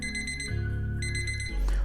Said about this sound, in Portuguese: o nosso timer chegou